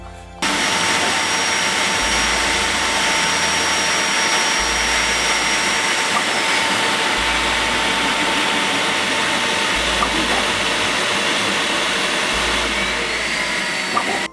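Steady, loud whoosh of cooling fans on a Core XY Klipper 3D printer, a continuous airy hum with a faint tonal whine running unbroken throughout, no voices.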